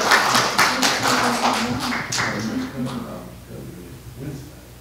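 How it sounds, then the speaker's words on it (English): A congregation claps during a Sunday worship service, steady applause at moderate volume that gradually thins out, with some voices under the clapping. "please just give them a round of applause"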